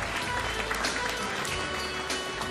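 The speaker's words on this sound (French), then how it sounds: "on peut les applaudir" An audience at an e-commerce awards ceremony applauds the finalists, a dense, steady wash of clapping at moderate level for the whole moment with no voice over it.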